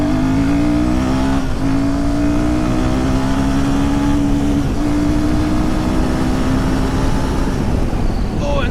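A Royal Enfield Himalayan motorcycle engine pulls hard at full throttle, its loud rising drone climbing steadily through the gears with brief dips at each shift.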